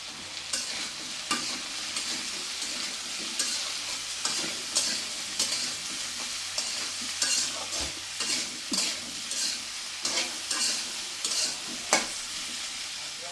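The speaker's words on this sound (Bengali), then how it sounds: "একটু পেঁয়াজ কাঁচামরিচ ভাজা হতে হতে আমি দিয়ে দেব মশলা" Sliced onions and plenty of green chilies frying in a pan in a home kitchen, a loud continuous sizzle broken by repeated scraping stirs of a spatula against the pan, without any talking.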